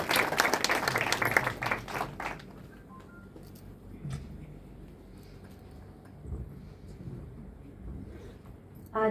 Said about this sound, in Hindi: आइए तालियों से उनका स्वागत करते हैं।